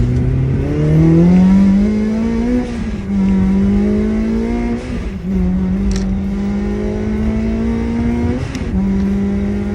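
A 400bhp Honda Civic FN2 Type R accelerates hard through a corner on a road, its loud engine note rising steadily with brief dips as the revs shift, heard close and alone.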